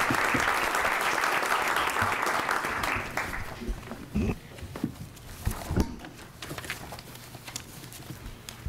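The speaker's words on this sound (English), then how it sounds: "Let's give them a round of applause." City council meeting audience giving a round of applause, loud and dense at first, then fading out after about three seconds into a quiet room with scattered knocks and a few voices.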